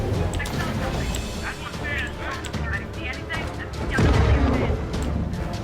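Bombs burst in Maneater, the shark video game: a louder, heavier boom swells near the end of a busy stretch of underwater game noise, with a voice talking throughout.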